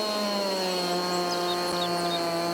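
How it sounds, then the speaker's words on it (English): Chainsaw in Farming Simulator 22 cutting through trees in a western wilderness setting, a steady droning engine whine with a sustained buzzing tone running continuously and fairly loud throughout. "I'm just doing them real quick with the chainsaw so that I can drag them over"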